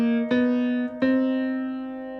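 Two single piano notes struck about a second apart, a thumb-played counter melody line, each ringing out cleanly and decaying slowly with no other sound.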